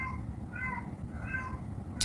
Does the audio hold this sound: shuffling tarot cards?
no